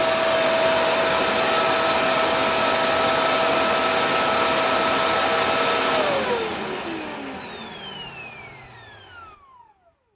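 A Shark NV650W vacuum cleaner with brush roll off and all filters out roars steadily with a constant high whine, then the motor spins down and the pitch falls away to silence.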